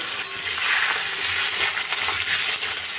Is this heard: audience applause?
no